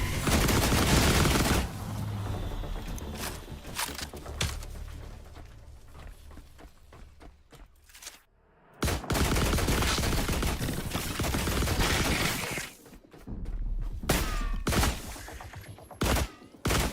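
Gunfire aimed at a Cyclops in The Last Caretaker, loud bursts of rapid automatic shots broken by short pauses, with a brief quiet gap midway before the shooting resumes in bursts.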